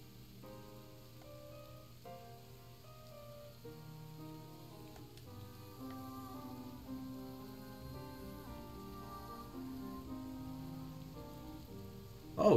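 Steady rain falls in the video game Ender Lilies, a soft continuous patter under gentle melodic game music, fairly quiet throughout with no talk.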